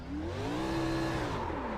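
A damaged race car still running, its engine holding a steady, loud droning whir with a slight rise and fall in pitch, close by and without talk.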